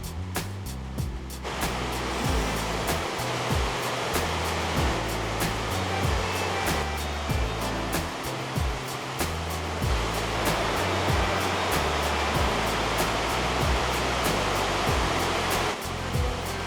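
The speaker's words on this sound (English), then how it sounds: "It's the second highest waterfall in Iceland." Iceland's second highest waterfall thundering as a dense, constant roar of falling water, loud and close throughout with no pause and no voices.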